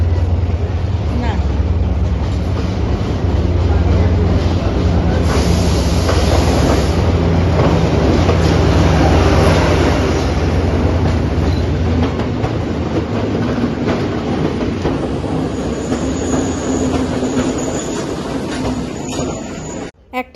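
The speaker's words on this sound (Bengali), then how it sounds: "একটা এত সুন্দর লাল ট্রেন চলে আসলো" A red passenger train rolling into Kandy railway station in Sri Lanka, a loud, close, steady rumble of wheels and carriages sustained for many seconds before easing off near the end.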